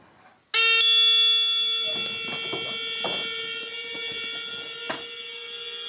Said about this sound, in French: Quand l'alarme retentit, ils ont 7 minutes pour décoller.